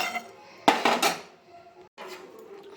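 Roasted rice and urad dal tipped into a mixer jar give a short, bright clatter of grains against the steel jar, with a second small rattle near the end.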